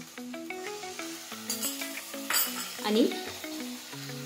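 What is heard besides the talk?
soy sauce added to sizzling pan for paneer chilli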